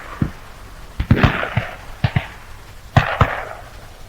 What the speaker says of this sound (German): Artillerie wird eingesetzt.